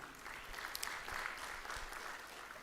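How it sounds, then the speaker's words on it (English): Faint, steady applause from an audience at a green-transition launch event for the KCIC team, a continuous crackle of many hands clapping with a few sharper claps standing out. "Let's clap for KCIC team."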